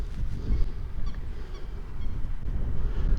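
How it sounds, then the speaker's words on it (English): Birds, likely geese, honk at a coastal nature reserve, a few short calls at mid distance over steady wind noise and outdoor rumble. "loads of birds. We've not got the equipment to see what they are."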